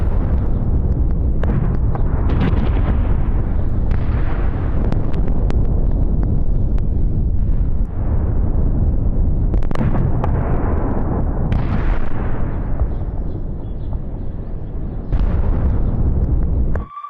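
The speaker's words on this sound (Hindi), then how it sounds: "ये देखिए कैसे आसमान में इंटरसेप्ट किया और उन्हें मार गिराया।" Missile interceptions and explosions high in the sky over Israel during an Iranian barrage, heard as a dense, continuous rumble of booms and bursts with sharper blasts recurring every second or two, all loud and close with wind buffeting and no speech.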